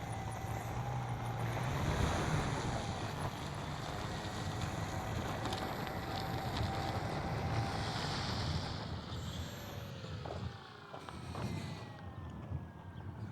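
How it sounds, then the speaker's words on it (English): Heavy, gusty wind outdoors at an RC gyro flying session, roaring steadily across the whole stretch with broadband buffeting and a few quieter dips near the end, no talking. "It's pretty heavy wind."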